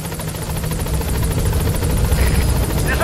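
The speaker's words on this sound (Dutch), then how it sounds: "Als hij even opschiet, de helikopter." A helicopter arriving in the video game Metal Gear Solid 5, a loud, continuous rotor drone with a fast rhythmic chop that grows slightly stronger and fills the whole clip.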